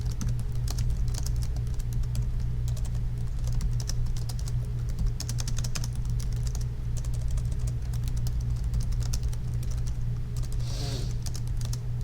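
Steady, rapid clicking of keys on a computer keyboard, continuous and close, with a low electrical hum underneath.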